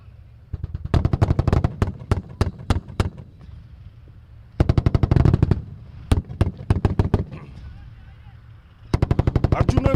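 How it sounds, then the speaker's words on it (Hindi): Army gunfire and shelling during an exercise at Pokhran: loud rapid bursts of automatic fire in several long volleys with deep booms, separated by brief pauses, heavy and close. "लगातार फायरिंग और गोले जो है बरसा रहे हैं"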